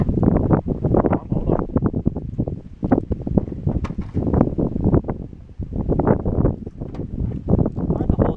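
Outdoor wind buffets the microphone in steady, loud gusts that rumble across the whole stretch, with rustling mixed in and no clear talk over it.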